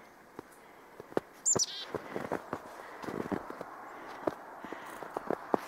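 Chickadees chirp in a snowy campfire clearing, giving a few brief high calls amid scattered soft crunching footsteps, fairly faint with no talk.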